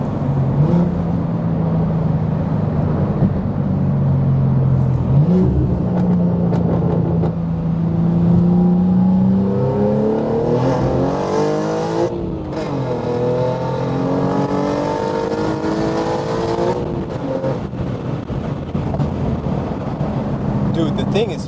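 A tuned 700 hp BMW M4 G82 accelerates hard, its loud, close engine note sweeping upward through the revs, holding, then climbing again in several long pulls.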